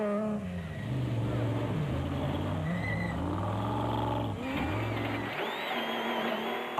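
A Nissan Hardbody rally truck drives hard over rough terrain during the Caledon 400 rally, its engine revving up and down through the gears in loud onboard drone with rattles and bumps, ending in a lull.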